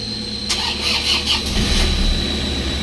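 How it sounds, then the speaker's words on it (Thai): A 2008 Toyota Vigo 2.5 pickup truck engine cranks with a brief squeal, catches, and settles into a steady idle, loud and close. "ฟังเสียงเครื่องยนต์กันหน่อยว่าเป็นยังไงสตาร์ทติดง่ายไหม"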